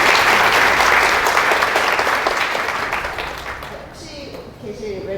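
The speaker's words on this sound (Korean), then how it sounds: "큰 박수 부탁드리겠습니다." A hall audience at a Python talk on Jupyter notebooks gives a speaker a big round of applause, thick and loud at first, then thinning and tapering off as a voice starts speaking near the end.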